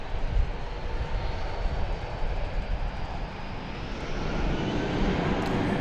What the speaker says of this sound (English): It's an Airbus A320. And you'll see it here momentarily